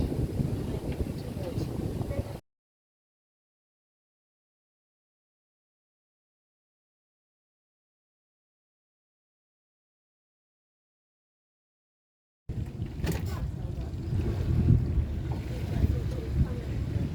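Wind blusters across a boat on open water, a rough, close rumble of microphone-buffeting gusts that drops out entirely for a long silent stretch in the middle, with voices talking over it.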